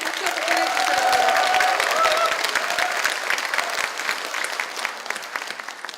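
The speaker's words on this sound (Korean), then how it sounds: "문재인 대통령을 위해서 크게 한번 박수 한번 보내주세요." Party rally audience at a Democratic Party small-business members' gathering breaking into sustained loud applause and cheering from a large crowd, dense clapping throughout, gradually thinning toward the end.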